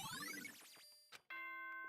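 Doorbell-like chime from the Danganronpa Trigger Happy Havoc video game: a bright ding-dong of ringing tones that fades, then a sustained chime tone begins, with no talking.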